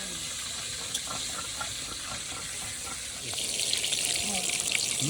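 Water is splashed into a pan of frying eggplant curry, a continuous sizzling, gushing wash that grows louder and brighter in the second half, close by and without speech.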